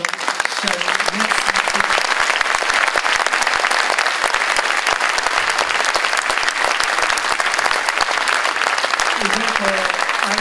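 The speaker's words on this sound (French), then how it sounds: "Donc pour ça, on peut applaudir encore une fois." Sustained audience applause after a school orchestra concert in Gorron, 2023, dense steady clapping from a large crowd filling the whole stretch, with a few faint voices underneath.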